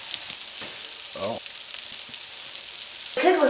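Sausage sizzles steadily in a frying pan, a close, bright hiss throughout, broken by a few short voice-like bursts.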